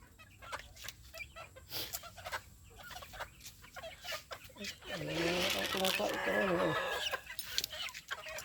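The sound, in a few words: chickens clucking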